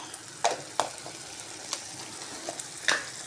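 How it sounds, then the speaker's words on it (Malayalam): Green chillies and curry leaves sauté in hot oil, a soft steady sizzle broken by several sharp crackling pops spread through the stretch, close and clear, with no voices. "പച്ചമുളക്, കറിവേപ്പില, ഇത്രയും കൂടെ ഇട്ട് വഴറ്റണം"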